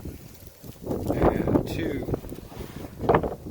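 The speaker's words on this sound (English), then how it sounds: "Very windy out here today." Gusts of wind buffet an outdoor microphone with heavy low rumbling and rustling that swells and fades, mixed with a voice speaking briefly.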